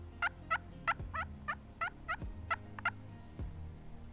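A wild turkey gobbles outdoors during an evening turkey hunt, a rapid string of warbling calls repeating about a dozen times at moderate distance over low background rumble.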